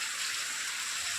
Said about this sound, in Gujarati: ભાઈ છાંટા જબરા પડે.